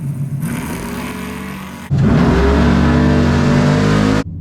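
A Chevrolet Malibu drag car sits at the drag strip starting line and revs loudly while staging. The engine burbles up close, then jumps into a sustained high-rpm roar that holds for a few seconds before cutting off.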